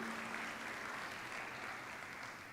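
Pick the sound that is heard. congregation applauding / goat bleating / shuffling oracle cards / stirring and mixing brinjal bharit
congregation applauding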